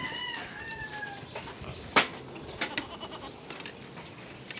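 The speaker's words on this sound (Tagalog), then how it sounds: "Sa mga kambing natin." Goats on a small farm in the Philippines bleat a few times, mostly faint and distant, with a short sharper call near the middle over an outdoor background.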